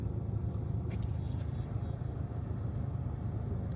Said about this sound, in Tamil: இவ்வளோ டிராஃபிக் பாருங்க.